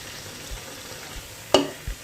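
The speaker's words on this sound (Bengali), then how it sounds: "যাতে অপর সাইডটিও পেঁয়াজির ভাজা হয়ে যায়" Piyaji onion fritters frying in hot oil, a soft steady sizzle with a sharper crackle burst near the end and a few low knocks, no talking.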